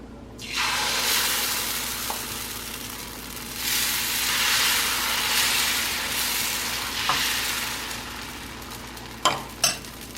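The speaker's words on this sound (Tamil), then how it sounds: "நான் வந்து இப்போ அடுத்த தோசை வந்து ஊத்தப்பம் மாதிரி ஊற்றி காட்டுறேன்" Sprouts dosa batter poured onto a hot pan bursts into a steady, loud sizzle that swells and settles, closely heard, ending with a couple of sharp utensil taps.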